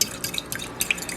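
A spoon stirs Cuban mojo marinade in a bowl, making light clinks and splashy drips. The soft liquid taps come quick and irregular, close by.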